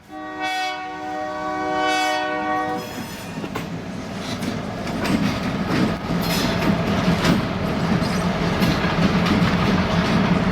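A locomotive chases down uncoupled railroad cars that seem to run away: a loud multi-tone train horn blares for about three seconds, then gives way to a steady, heavy rumble of rolling wheels and cars close by.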